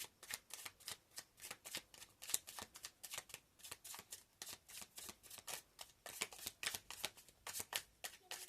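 Tarot cards are shuffled over and over in quick, crisp riffling bursts, close and steady, with no voices.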